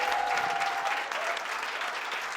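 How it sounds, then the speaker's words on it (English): Steady applause from an audience at an awards event fills the room, a dense, even clapping that holds its level before easing slightly toward the end. "Big round of applause, everybody."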